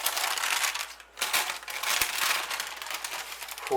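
Baking paper peeled and crinkled off the outside of a freshly baked dark cake, a continuous close crackling rustle with a brief pause partway through.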